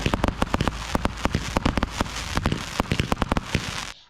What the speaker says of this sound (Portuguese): a poluição sonora causada pelos fogos de artifício